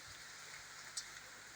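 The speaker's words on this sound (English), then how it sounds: "It's just the water is coming from the sprinklers." Water from sprinklers spraying inside a snail greenhouse, a steady soft hiss like rain pattering on surfaces, faint and continuous with one brief splash near the middle.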